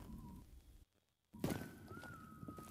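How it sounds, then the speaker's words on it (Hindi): A thin, steady whistling tone drifts through a dark cave in the Choo Choo Charles horror game, faint at first, cut by a brief silence, then returning over a louder rumbling burst. "यहाँ पर मुझे सीटी की आवाज़ आ रही है कुछ"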